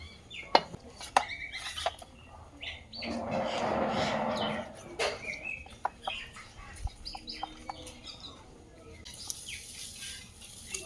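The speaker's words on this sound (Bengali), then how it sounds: "সব লেগ পিসগুলো আমি এরকম সুন্দর সুন্দর করে কেটে ফেলেছি একটু মাঝখান দিয়ে" Knife cutting chicken leg pieces, heard as a run of sharp chopping taps with a denser scraping burst in the middle, close and moderately loud, with no talk.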